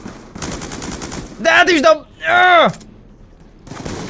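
Black Ops 2 video game gunfire crackles in rapid bursts while someone speaks briefly in German over it, with a couple of sharp synthetic zaps in between.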